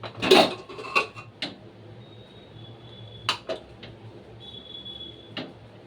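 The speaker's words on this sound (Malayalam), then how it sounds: "അപ്പോൾ കുക്കർ ഒന്ന് തുറന്ന് നോക്കാവേ" A pressure cooker of peanuts is opened with a burst of metallic clanks and taps, followed by a few scattered clinks of the lid and pot in a quiet kitchen with faint background hum.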